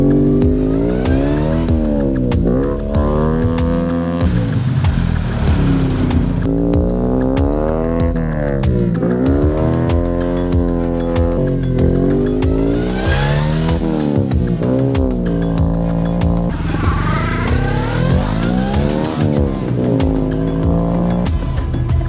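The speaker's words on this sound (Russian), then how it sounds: "надо подрифтить на переднем приводе" A front-wheel-drive car drifting in an empty dead-end lot, engine revving hard and rising and falling through repeated throttle bursts while tires squeal continuously, loud and close for the whole stretch.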